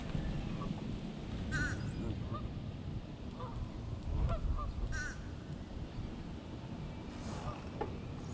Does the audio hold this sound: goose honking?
yes